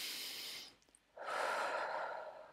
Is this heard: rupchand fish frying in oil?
no